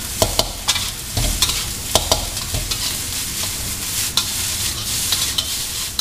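Nasi goreng being stirred and fried in a pan, with a steady sizzle under repeated scraping clicks of a utensil against the metal, close and continuous with no talk.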